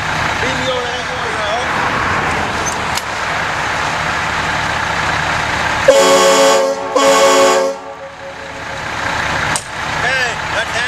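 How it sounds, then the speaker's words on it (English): Two long blasts from a truck air horn, Hank one, sounding loud and close over a noisy background with voices around it. "You want to hear both air horns, a sample, okay?"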